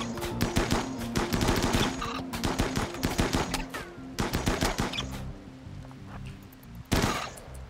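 Rapid video-game gunfire from a RimWorld battle crackles in dense bursts of sharp shots, thinning toward the end before one last loud report.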